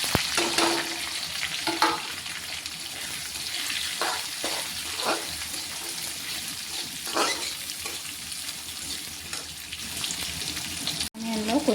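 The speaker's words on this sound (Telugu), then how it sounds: "బాగా వేగుతుంది, మంచి కలర్ వస్తుంది." Onion and chili frying in a pan with garlic-ginger paste for chicken fry, a steady close sizzle with occasional stirring scrapes, no talking.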